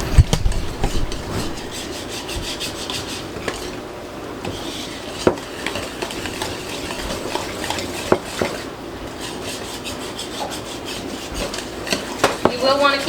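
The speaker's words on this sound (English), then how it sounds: "I'm gonna go ahead and mix this together." Grain-free dog treat dough with coconut flour is worked in a bowl, giving a steady, close scraping and rubbing with occasional clinks of utensil on bowl. The mixing continues without speech.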